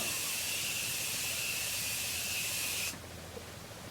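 Makeup setting spray from a One Size Go Off bottle hisses onto a face in one continuous spritz lasting about three seconds, then cuts off abruptly, leaving near silence.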